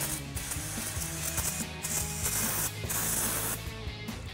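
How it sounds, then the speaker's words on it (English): Brake cleaner hisses from an aerosol can onto a suspension part of a Toyota Tundra during a 3-inch TRD lift install, in several close spray bursts broken by short pauses, with faint mechanical clicks underneath. "you could use some brake clean to clean up our surface"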